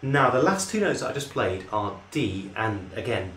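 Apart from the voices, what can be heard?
None of the usual background noises is heard.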